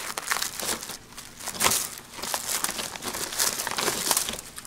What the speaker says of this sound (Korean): 자, 비닐되어 있는 걸 풀러서